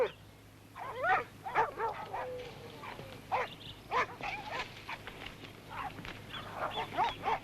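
Dogs barking outdoors in a rural setting, a run of irregular barks and yips scattered across several seconds at moderate distance, with no speech over them.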